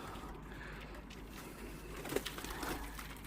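Osmaniye Yavuz pigeons cooing close by, soft low coos that rise near the end over quiet background noise, with no speech.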